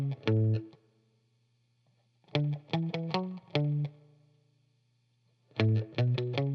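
Bass line from the verse of a song played on an electric guitar with chorus and distortion, short plucked phrases in three clusters separated by ringing sustained notes and pauses, clear and solo.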